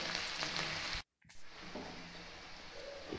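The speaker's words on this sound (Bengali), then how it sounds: "পেঁয়াজগুলোকে একটু লাল লাল করে ফ্রাই করে ভেজে নেবো" Onions frying in a pan, cooking until reddish-brown. A close, steady sizzle breaks into a brief silence, then the frying returns and continues evenly.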